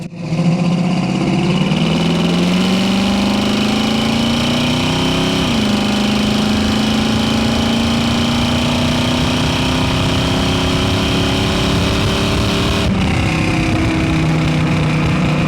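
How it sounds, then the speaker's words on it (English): A loud, throaty 1968 Chevrolet Camaro engine with a raspy aftermarket exhaust drones steadily, pitch slowly climbing as it accelerates, close and continuous throughout. "You do obviously have aftermarket exhaust."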